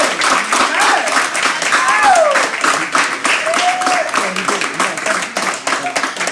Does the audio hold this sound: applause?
yes